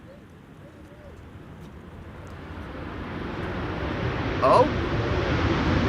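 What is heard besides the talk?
Transavia airliner landing with thrust reversers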